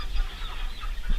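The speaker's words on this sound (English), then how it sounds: "There's some chickens in here, some chickens out there." Young backyard chickens cluck softly inside a mobile coop on wheels, a few brief calls rising faintly over a steady low rumble with no talking.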